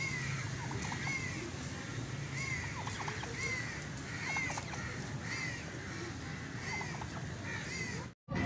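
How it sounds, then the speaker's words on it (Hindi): Turkeys at a zoo gobble in repeated rattling bursts, several calls spread across a steady outdoor din with faint voices underneath, cut by a brief dropout near the end. "ये टर्की है"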